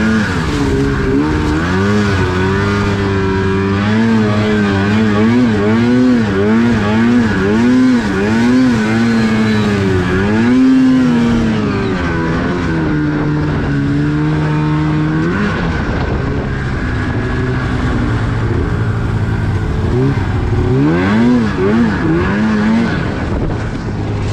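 Mountain snowmobiles, a Polaris Pro RMK 800 and an Arctic Cat M8, ride past with a loud, steady engine roar that climbs and falls in pitch as the throttle rises and eases, with no talk over it.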